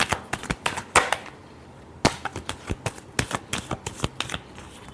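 Tarot cards are shuffled by hand in a final shuffle, a quick series of crisp riffling snaps and flicks, close and sharp, with a short pause partway through.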